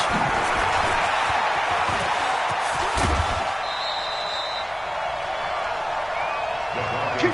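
A stadium crowd cheers in an NFL football video game on PS4 before a Denver Broncos versus Los Angeles Rams matchup. The roar is loud and steady throughout, with faint voices underneath.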